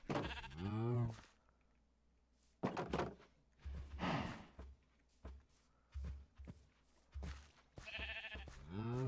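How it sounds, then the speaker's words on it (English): Sheep bleat in Minecraft, several separate bleats spaced across the clip between quieter stretches, close and fairly clear, with a dull thunk in between. "Yes, you stupid sheep. Come in here too."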